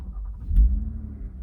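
A car engine fires up in sport mode with the exhaust valves open, giving a short deep low rumble that swells to a brief loud peak and settles, close by with no talking.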